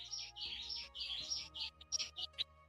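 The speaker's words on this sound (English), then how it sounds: "listen to this bird talking." A forest bird in Costa Rica sings a run of bright chirps and tweets in short bursts, fairly close and alone, with quick repeated notes toward the end.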